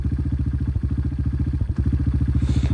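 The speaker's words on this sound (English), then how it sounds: "if you just tap the button, you'll hear your bike like start to die" Titan 250 motorcycle engine idling with a steady low pulsing throb that briefly stutters and dips as the quickshifter kill switch cuts the ignition, then recovers, loud and close.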